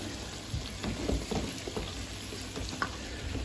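Shredded cabbage with egg fries in a frying pan, a close, even sizzle with scattered small crackles and soft stirring movements throughout.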